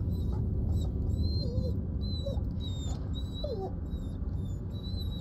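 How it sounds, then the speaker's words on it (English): Several thin, high whimpering whines from a dog in the horror game Devil in Me, brief and rising, set against a constant low rumbling background and high faint chirping tones. "Oh no, it's a doggy!"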